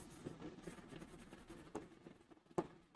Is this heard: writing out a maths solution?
yes